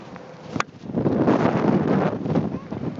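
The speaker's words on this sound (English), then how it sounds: "Why do I always get this wind and rain?" Wind and rain at an outdoor golf driving range buffet the microphone in a loud, rumbling roar that swells and lingers, with a sharp knock near the start.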